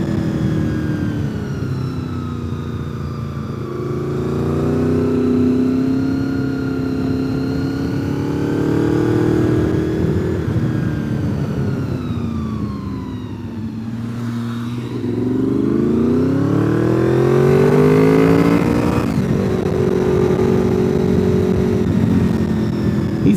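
On a winding mountain road near a lake, a motorcycle engine drones close by, rising and falling in pitch through gear changes as another bike closes in from behind to pass; loud and continuous with no talk.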